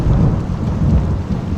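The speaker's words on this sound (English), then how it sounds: "Tons of thunder, lightning, we've had hail" Thunder rolls through a heavy rainstorm with hail at a homestead: a deep, steady rumble blends with dense rain noise, loud and continuous, and no voices are heard.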